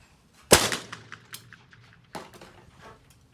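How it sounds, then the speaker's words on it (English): A shotgun fired at a clay target at an outdoor shooting demonstration: one loud close blast with a rolling echo, followed by a fainter second report and scattered small knocks. "you're going to keep the gun moving and pull the trigger in one nice smooth motion"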